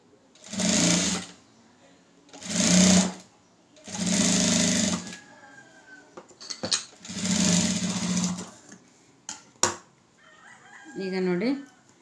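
A sewing machine stitches a lined blouse in four loud, close bursts of steady whirring separated by short pauses, with brief clicks and a voice-like call near the end.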